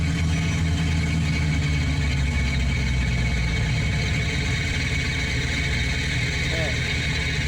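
Helicopter engine starting in Microsoft Flight Simulator near Valdez, Alaska: a steady mechanical drone and whine with low rumbling that settles into a continuous hum, with a voice talking over it.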